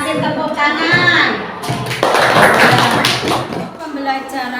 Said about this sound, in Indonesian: Ya, terima kasih. Kasih tepuk tangan.